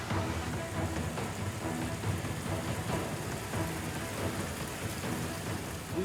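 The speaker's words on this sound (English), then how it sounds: "It has been raining for 3 days" Heavy, steady rain pours down during a flood disaster after three days of rainfall, a dense continuous hiss with faint rumbles of thunder, constant throughout.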